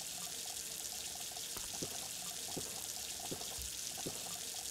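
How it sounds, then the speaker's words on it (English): Water runs from a tap in the video game Junkyard Truck, a soft, steady trickling pour with a few light knocks and clicks scattered through it, fairly quiet and heard alone. "Let's get a drink from the tap, which is the cheapest way to get water or drinks."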